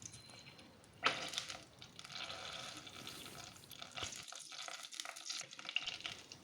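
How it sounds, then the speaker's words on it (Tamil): Soft sizzling and crackling of fenugreek seeds and cumin tempering in hot oil, with a brief clatter near the start and quiet stirring noises. "எண்ணெய் காஞ்சதுக்கப்புறம் வெந்தயம் சீரகம் 2 சேர்த்து தாளிக்கணும்"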